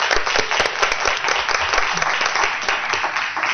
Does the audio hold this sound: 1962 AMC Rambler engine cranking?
no